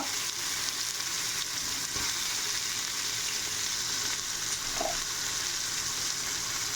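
Sliced onions frying in a pan for a special curry, giving a dense, steady hiss of sizzling oil that carries on without a break, close by and with no voices.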